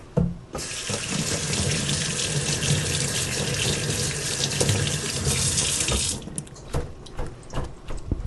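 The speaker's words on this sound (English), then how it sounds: "Rinse these off." Running kitchen faucet rinsing food in a sink, a steady loud splash of water that starts abruptly, streams continuously, then cuts off, followed by a few clatters and drips.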